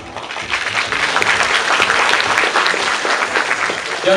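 Audience applause at a live programmer-of-the-year stage event, a steady dense clapping that fills the whole stretch at even loudness without talk on top.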